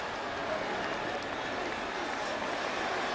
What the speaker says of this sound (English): 2 away, and the crowd, you can hear the emotion building